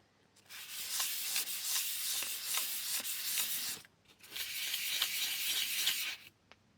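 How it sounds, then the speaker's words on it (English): Fine P320–P600 sandpaper rubbing on an electrical socket during a repair of an Apollo Vampire 600 V2 accelerator, two steady raspy bursts of scrubbing separated by a short pause, close and fairly quiet. "So it looks like it wasn't enough to simply sand the socket"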